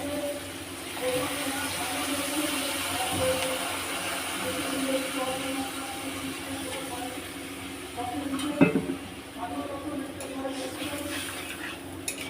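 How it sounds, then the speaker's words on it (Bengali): A little water hits a hot pan of frying amodi fish with onion greens, a soft sizzle rising to a sharp hiss burst partway through, with occasional stirring and utensil clinks. "আমি অল্প করে জল দিয়ে দিচ্ছি"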